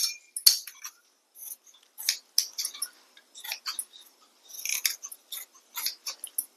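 Scissors snipping through cloth for sewing, with a string of quick crisp snips in short irregular bursts, close and clear with no talking.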